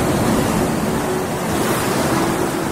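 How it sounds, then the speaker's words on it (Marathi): Storm wind and crashing waves on a lake, a steady, loud, broadband roar of wind and surf lasting throughout without pause. "पहा, किती भयानक वादळ सुटले आहे."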